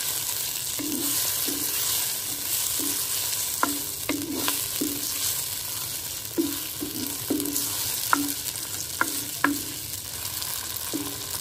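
Vegetables with chilli stirred and frying in a pan, steady sizzle under repeated scraping strokes and sharp clinks of a spoon against the pan, close and without talk.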